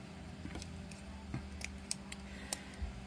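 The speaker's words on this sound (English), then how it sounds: "I don't usually use scissors for that, folks, but just for that one time." Quiet snips of scissors cutting thin jewelry wire while making necklaces, a few sharp, faint clicks spread irregularly over a low steady room hum.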